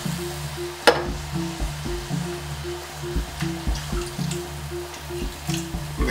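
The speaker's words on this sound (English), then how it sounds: "And I'm going to add just a little bit of water." Water is poured into a pan of frying Nigerian stew (obe ata dindin), giving a steady low sizzle and bubbling with soft repeated drips and stirring sounds, close and fairly quiet, without talk.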